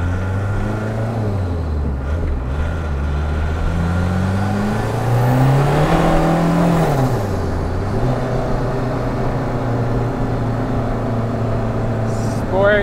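A VW turbodiesel accelerates hard under boost with its clutch slipping, the engine note rising and sagging in a continuous droning whir, steady and close throughout the run.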